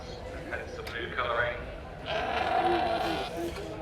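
Sheep bleat several times at an agricultural show, with Dutch Spotted sheep in the ring, close and fairly loud. The bleats overlap with crowd noise and a person talking nearby.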